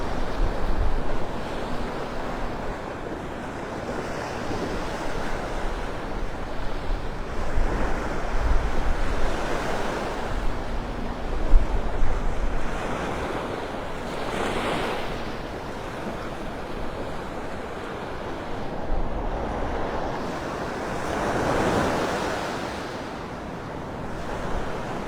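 Small ocean waves roll onto Vanderbilt Beach in North Naples, Florida, a steady wash of surf under wind noise, with gentle swells rising and falling throughout.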